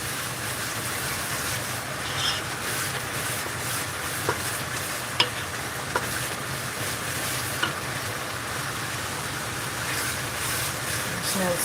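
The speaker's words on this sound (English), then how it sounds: "So you can hear it sizzling now." Fresh tomato pasta sauce sizzles in a pot, steady and dense throughout, a constant frying hiss with a few small clicks and taps on top.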